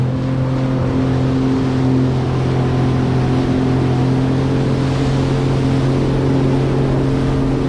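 A jet ski engine drones steadily on the river water near Niagara Falls, loud and close, a constant motor hum over rushing water with no break and no voices.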